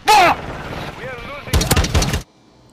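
A burst of rapid automatic gunfire from Call of Duty Modern Warfare 2, loud and close, with a dense rattling run of shots that cuts off abruptly, preceded by brief voice and game sounds.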